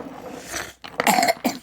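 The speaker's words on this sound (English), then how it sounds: "She's over here coughing." A girl with a cold coughs in two short, harsh bursts close by, the second slightly weaker than the first.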